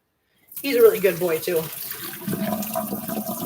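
Water from a pot of cooked ravioli poured off into a sink, a gushing, splashing stream that starts abruptly and runs on steadily while a person talks over it.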